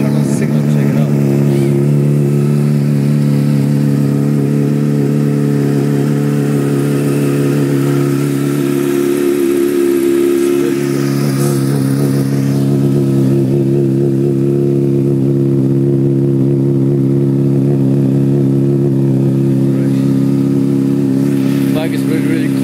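A Honda CBR motorcycle fitted with a Two Brothers exhaust runs on a cold day, a loud, close, steady engine note with a deep rumble that briefly dips midway before resuming.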